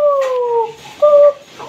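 A human voice imitating a rooster crowing, with two drawn-out tonal calls, the second shorter and higher, loud and close with no other sound.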